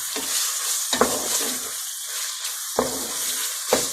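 Coarse hand-minced keema frying with tomatoes in a home kitchen, a spoon stirring through it: a steady bright sizzle underneath, broken by four sharp scraping strokes against the pan.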